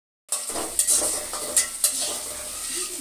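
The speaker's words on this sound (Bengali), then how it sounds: "ভাজাভাজি কাজ চলতেছে এখন" Noodles sizzle and hiss in a hot pan while a spatula scrapes and stirs in several sharp strokes, the frying steady and close with no talking.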